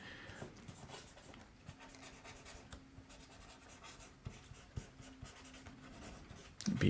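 Pencil sketching loose, quick lines on paper for a male upper body anatomy drawing, soft scratchy strokes with occasional sharper taps, faint and close over a quiet room tone, with no talking.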